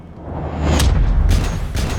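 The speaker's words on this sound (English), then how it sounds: "Witnesses report hearing a loud explosion mid-air." A mid-air explosion on a London-bound airliner, rendered as a deep, rumbling boom that swells and sustains for about two seconds with a roaring, distant-sounding tail.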